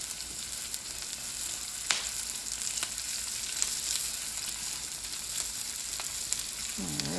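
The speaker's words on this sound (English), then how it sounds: "we're just going to let that stir fry up probably for 2 minutes" Sausage stir-fries in its own rendered fat in a pan for house special fried rice, giving a steady close sizzle with a few sharp utensil clicks and no talking.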